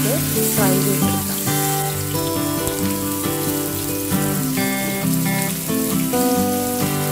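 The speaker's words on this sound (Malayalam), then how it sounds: "ഇതിലോട്ടേക്ക് നേരത്തെ മാരിനേറ്റ് ചെയ്ത് വെച്ച ഫിഷ് നമുക്ക് ഫ്രൈ ചെയ്തെടുക്കാം." A large marinated sheri fish fries in hot oil over a low flame, Kerala style, with a steady rain-like sizzle under loud background music throughout.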